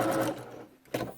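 A sewing machine runs in steady bursts while stitching a seam on a fabric face mask, loud and close, pausing briefly before starting again.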